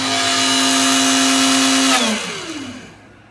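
An X-Carve CNC router spindle whines steadily at speed with a strong tonal hum, then spins down, its pitch sliding lower as it coasts toward a stop.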